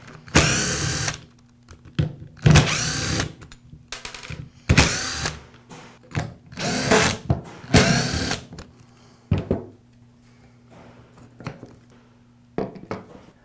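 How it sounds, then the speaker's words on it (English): A power tool runs in repeated short bursts, about six loud whirring pulses with pauses between, while screws are backed out of the housing halves of a Milwaukee cordless impact driver, with a steady low hum underneath. "Now I'll go ahead and remove the screws that secure the 2 halves of the housing."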